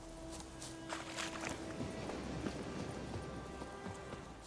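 Horse hooves walking in The Witcher 3, a soft, steady clip-clop over a continuous bed of game music and ambience.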